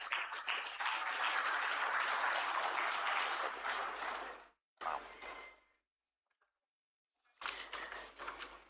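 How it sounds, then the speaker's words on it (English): Audience applause at the Progressive Governors Forum summit, a dense, sustained round of clapping that fades out, falls silent, then rises again briefly. "This is the time when we give the ruling party a resounding round of applause"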